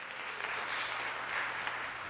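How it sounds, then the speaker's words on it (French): A church congregation claps through a worship service, a steady dense wash of applause at moderate distance with no break. "mais ensemble avec nous pour applaudir Jésus ça"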